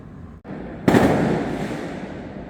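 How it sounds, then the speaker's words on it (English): Fireworks burst over a city at night in Bangkok, Thailand: a single loud boom cracks out after a brief quiet, then rolls and crackles away as a long fading rumble with no talking. "I'm definitely hearing fireworks all over town"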